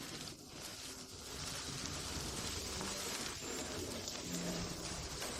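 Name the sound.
heavy rain downpour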